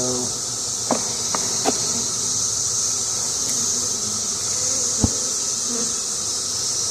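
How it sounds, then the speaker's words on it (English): Honey bees buzzing in a steady high drone as they are shaken off a hive frame in an apiary, with a few brief knocks and taps from handling the frame. "we're going to shake the bees off of this, cut all them cells down"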